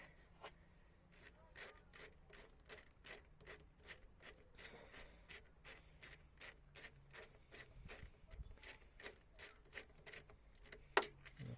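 A ratchet wrench clicks steadily as it loosens a bolt on an intercooler pipe of a 1.6 HDI turbo engine in a Citroen C4 Grand Picasso, a long run of close, evenly spaced ticks with a brief pause partway through.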